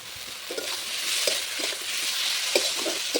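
Fried potatoes stirred into sizzling masala in a pan for a rohu fish and potato curry: a steady frying hiss with several scraping stirs at an irregular rhythm, close and moderately loud.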